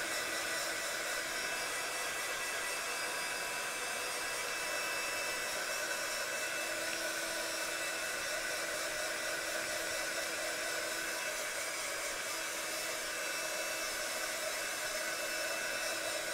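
A hair dryer blows steadily to dry a mixed media heron painting, a loud, continuous whirring roar from start to finish with no talk.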